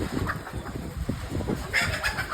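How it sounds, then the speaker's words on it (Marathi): Hens clucking in a village yard, a few soft broken clucks spread across the moment over a steady background hum, close by but fairly quiet. "ती कोंबडी बघा"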